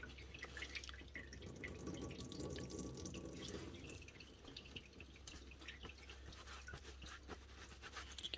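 Liquid drips and trickles from a towel being wrung out over a dirty parts washer bath, a faint, continuous patter of small splashes with no talk.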